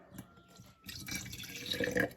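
Half a cup of water pours into a container for a sourdough starter made from water and all-purpose flour. It is a short, soft splash and trickle that swells toward the end, with no talking.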